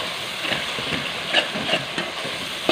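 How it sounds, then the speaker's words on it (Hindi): Masala sizzling in ghee while being stirred, a steady close frying hiss punctuated by a few scraping clicks of the spoon against the pan. "इसको तकरीबन 1 मिनट तक अच्छी तरीके से भूनेंगे ताकि मसालों का कच्चापन ख़त्म हो जाए"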